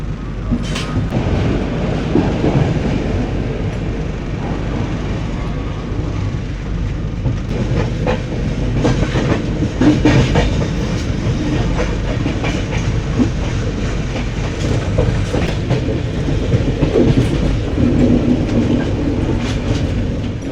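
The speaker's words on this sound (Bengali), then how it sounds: "আমাদের ট্রেন এই বাক্সার ছাড়লো, আমরা যাচ্ছি এখনও।" Howrah-Amritsar Mail passenger train running through Bihar, heard from inside: a loud, steady rumble of wheels on rails with rhythmic clickety-clack joints and occasional squeal throughout.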